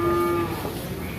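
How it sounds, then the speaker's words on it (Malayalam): A buffalo at the Kollannur livestock market gives a short, loud, tonal moo that fades into the crowd murmur and background noise of the market. "എരുമയുണ്ട് കേട്ടാ"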